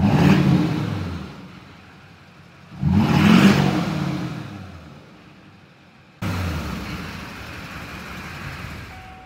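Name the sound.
LB7 Duramax diesel truck engine revving in throttle snap test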